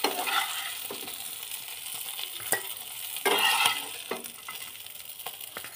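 Koi fish sizzling and frying in hot oil, a steady crackling hiss broken by several sharp clinks and scrapes of stirring, heard close up with no voices.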